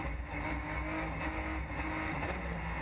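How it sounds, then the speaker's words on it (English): A BMW rally car at full attack on a stage of the Rally Islas Canarias, its engine a continuous loud roar held at high revs throughout, with no speech over it. "Enrique Cruz on full attack mode."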